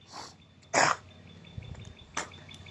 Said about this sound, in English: it's something in this area makes me cough every time I come over here now